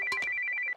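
A mobile phone ringtone plays at night, a steady high electronic trill that pulses evenly and sounds close and clear, with no voices over it.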